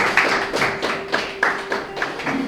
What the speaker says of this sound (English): And you clap for us.